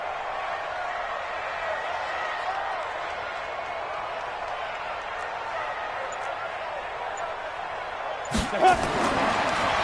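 Stadium crowd noise in an NFL football video game with the 49ers, a steady roar of fans building ahead of a big third down, with a sharper burst of cheering near the end.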